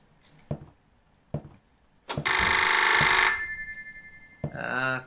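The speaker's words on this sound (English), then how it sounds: "Is it this phone that's ringing?" An old-style telephone bell in the horror game Apartment 666 rings loudly in a long electronic trill after a couple of soft footstep-like knocks, then starts a second ring as the first ends.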